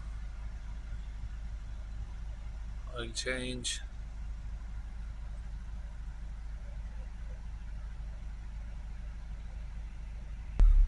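A Ford Transit Connect 1.5 diesel van idles steadily with a low, even engine hum throughout, while a person speaks briefly near the start and a short knock sounds at the very end.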